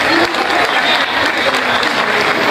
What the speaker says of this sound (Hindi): तो इनके लिए तालियां तो बनती ही हैं